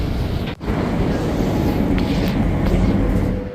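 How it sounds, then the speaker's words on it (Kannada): A train arriving at a station in Malaysia rumbles steadily through the whole stretch, a dense low roar with wind buffeting and a brief dropout early on, no voices. "ಮೇಲತ್ ಬರೋದ್ರೊಳಗೆ ಟ್ರೈನ್ ಬಂದು ನಿಂತಿತ್ತು"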